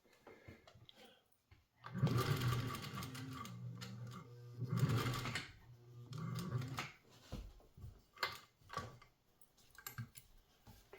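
A vintage sewing machine, a Japanese class 15 or a Singer 201, stitching through tough fabric, with two longer runs of whirring motor and needle followed by several short stop-start bursts, close up with no talk.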